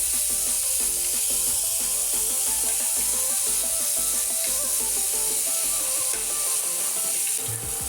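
Garlic paste frying in hot oil for a mashed ridge gourd dish, crackling and sizzling steadily up close with rattling stirring throughout, no talk.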